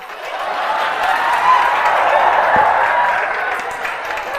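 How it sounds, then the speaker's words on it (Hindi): Students in a coaching classroom breaking into applause, a sustained wash of clapping that swells and then tapers over about four seconds, with some chuckling mixed in. "तुम लोग ताली क्यों बजा रहा है?"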